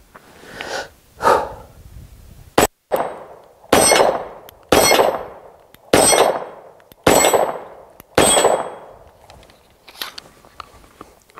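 Bullets striking a six-plate steel reactive target system: a run of loud, sharp metallic clangs at an uneven pace, roughly one per second, each ringing briefly, with fainter hits at the start and end.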